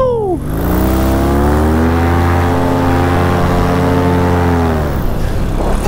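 Paramotor fitted with an Apco pod harness flies past, its engine a loud steady droning whine that drops sharply in pitch as it passes close, then fades slightly toward the end.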